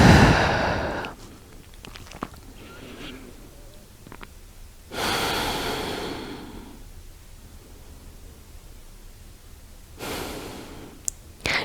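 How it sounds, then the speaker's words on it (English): Slow, steady breaths drawn in and out through the nose during a hip flexor stretch, soft and close, with long airy exhales recurring every several seconds over quiet room tone. "Continue breathing in and out through the nose."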